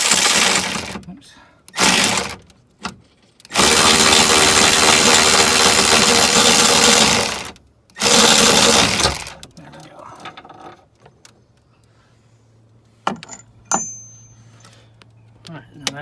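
An electric ratchet backs a bolt out on a Mini Cooper S R56 during rear sway bar installation, whirring in loud bursts with short pauses between, followed by clinks of metal parts and someone talking.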